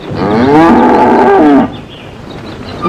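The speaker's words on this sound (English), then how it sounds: "Won't you listen to that cow now?" A single long, loud cow moo rings out close by for about a second and a half, then stops abruptly, leaving only quiet room tone.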